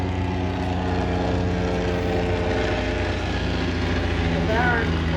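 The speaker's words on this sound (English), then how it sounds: "in his Fokker triplane that he built and reintroduced to the show just this year" Engine drone of a Fokker triplane flying at an air show, a steady propeller hum held throughout with a commentator talking over it.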